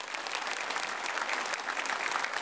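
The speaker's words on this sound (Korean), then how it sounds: "박수로 환영하겠습니다" Steady applause from a church congregation welcoming guests during a Sunday service, dense and even throughout, with no talking over it.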